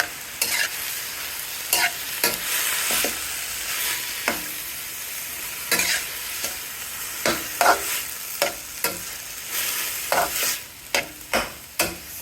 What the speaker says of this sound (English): Saute for about 2 to 3 minutes.